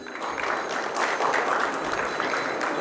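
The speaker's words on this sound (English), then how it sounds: "Can we have a big round of applause for Mr. Sandeep?" An audience at a corporate learning and development conference applauds a keynote speaker, a steady wash of many hands clapping that swells slightly midway and holds at moderate loudness.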